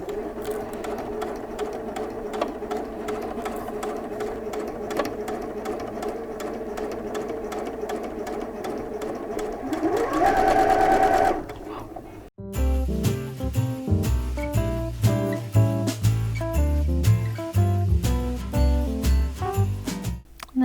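A sewing machine bastes a seam on pajama pants with a steady whirring run, then stops. Louder, rhythmic clunking with strong low thumps follows, up close and with no voices.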